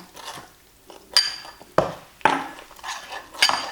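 Rice flour batter for fried banana being stirred in a bowl, with a spoon knocking and clinking against the sides in several sharp, close taps between quieter swishing stirs.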